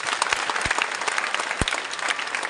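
An audience at a prize ceremony for topper students in a madrasa hall claps steadily, a dense, even applause with a few sharp thumps.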